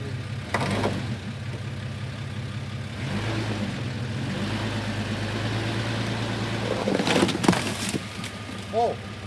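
An off-road 6x6 truck engine rumbles low and steady while backing slowly out of a tight spot, with louder revving near the end and people talking over it.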